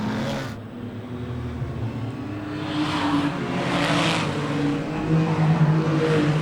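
Super saloon race cars lapping Beachlands Speedway in Dunedin, a continuous loud roar of engines with passing surges as cars sweep by, heard from trackside.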